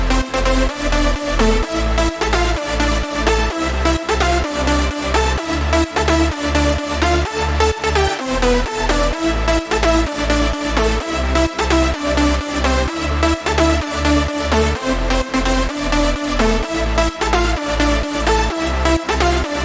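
Layered progressive house synth leads, processed with a soft clipper and pumped by sidechain, play a dense, loud, continuous pattern over a steady four-on-the-floor kick for about twenty seconds, with no voices.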